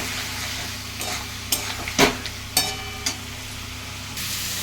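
Cauliflower and potato sautéed with fish paste, stirred in a pan: a steady sizzle with broadband frying hiss, punctuated by several sharp scrapes and clatters of the spoon against the pan, moderately loud and close, no talk.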